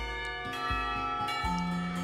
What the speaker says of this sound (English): everyone seems surprised when the bells signal the end of the lessons